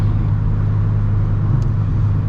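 Car cruising steadily on a road during a driving lesson, a continuous close cabin rumble of engine and tyre noise with one faint click, no voices.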